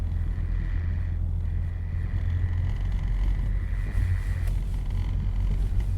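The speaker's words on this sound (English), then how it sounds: "I think this is the same truck sound from Camlin." Steady low engine rumble of a truck used as a sound effect in an audio drama, continuous and fairly close, with a faint higher tone running over it and no voices.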